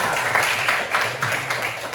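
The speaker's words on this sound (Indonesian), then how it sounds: "Betul, tepuk tangan Rafa." A classroom of pupils claps for a classmate, a short burst of scattered hand claps from a small group at moderate volume.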